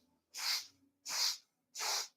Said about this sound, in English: we're going to take 4 sniffs in